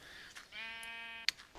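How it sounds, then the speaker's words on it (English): Sheep in Minecraft give a single clear, drawn-out bleat with a wavering pitch. It sits close and alone, ending in a quick click and a faint thud. "for now, we're just going to be happy with those two sheep there"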